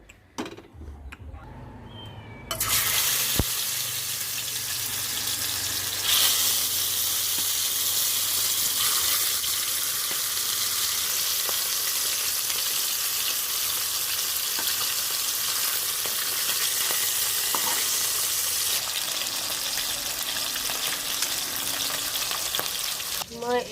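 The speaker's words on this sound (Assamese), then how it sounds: "তেল দিলোঁ কেৰাহীত মাছখিনি ফ্ৰাই কৰি ল'ম" Fish fries in hot oil in a wok, a loud continuous close-up sizzle that begins abruptly after a quiet moment and holds steady, with occasional faint knocks.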